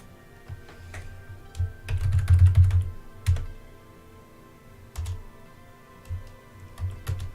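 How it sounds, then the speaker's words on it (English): Loud typing on a computer keyboard, a close run of quick uneven clicks and clacks that bunch into dense bursts, then thin out into scattered keystrokes with short pauses between them. "Loud typing."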